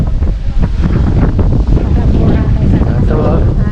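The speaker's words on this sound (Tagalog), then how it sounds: "Sarap ng hangin." Strong cold wind blowing outdoors at a market on Jeju Island, buffeting the microphone with loud, continuous rumbling gusts, while muffled voices sit underneath.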